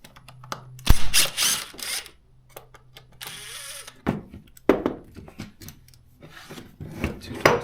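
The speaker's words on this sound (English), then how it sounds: "we're going to pop the handle off." A Stihl MS200T chainsaw is disassembled as its handle is popped off, giving close scraping, rubbing and plastic clicks in irregular bursts with quiet gaps between them.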